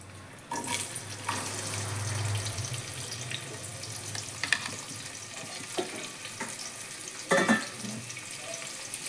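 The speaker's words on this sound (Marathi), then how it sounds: "कांदा छान असा लाल परतून घ्यायचा ब्राऊन कलरचा." Bay leaf and onion with a little cumin sautéing in a pan for green moong khichdi, a steady hissing sizzle heard close, broken by scrapes and clinks of a stirring spoon.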